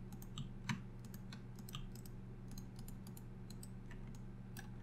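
Soft, rapid clicks of a computer mouse and keys while working in a map editor, scattered irregularly over a steady low hum, faint and close.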